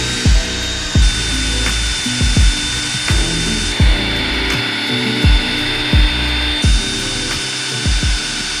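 A power drill whines continuously while a red polishing pad thumps and knocks rhythmically against a Toyota GR86 side skirt, roughly once a second, up close.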